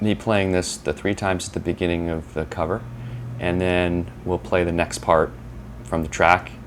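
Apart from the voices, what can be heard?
No everyday noises stand out.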